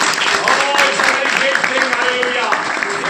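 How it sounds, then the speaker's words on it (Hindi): A congregation at a charismatic Christian worship service claps and cheers in a dense, loud wash, with voices mixed into the applause throughout. "ये ताली मारेंगे प्रभु के लिए"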